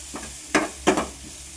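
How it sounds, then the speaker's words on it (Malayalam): Chopped onions and garlic frying in oil for koorkka masala, heard as short scraping sizzle bursts as the pan is stirred, two louder strokes standing out. "ചെറുതായിട്ട് അരിഞ്ഞിട്ടുള്ള സവാള ഉണ്ടല്ലോ, അതും കൂടി ഇട്ടിട്ട് നന്നായിട്ടൊന്ന് മൂപ്പിച്ചെടുക്കണം"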